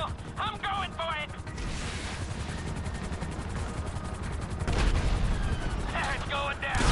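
Sustained gunfire in the GTA 5 game, dense rapid shots over a steady roar of wind and rotor-like noise throughout, with voices talking intermittently over the action.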